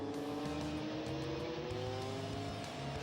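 Porsche race cars in close battle entering a corner on a circuit, engines droning steadily with layered harmonic tones, one car running down the inside of another, loud and continuous.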